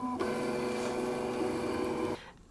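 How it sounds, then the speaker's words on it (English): A Loklik iCraft cutting machine scoring paper gives a steady mechanical whirring hum with a tonal motor whine, running evenly for about two seconds before stopping abruptly. "And it's going to do the scoring first"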